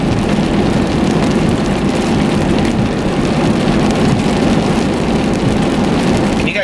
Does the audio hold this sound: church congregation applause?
no